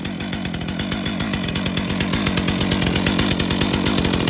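A chainsaw runs continuously nearby, its harsh buzzing engine rattling at a steady, rapid pulse.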